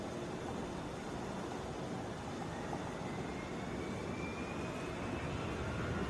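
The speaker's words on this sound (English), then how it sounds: "Flight 249 from Tel Aviv, Airbus A350. Making its way" A distant Airbus A350 airliner from Tel Aviv passes by at an Atlanta airport, giving a faint, steady broadband jet rumble and roar that holds even throughout with no talking.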